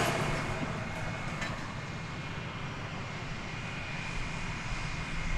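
An Airbus A319 airliner bound for San Francisco at Dallas/Fort Worth Airport, its jet engines producing a steady, moderately distant roar with a faint whine that eases slightly midway and then holds, no voices present.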